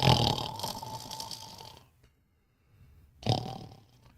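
A voice imitates loud snoring, a long rasping snore followed by a pause and a second shorter snorting snore, close to the microphone.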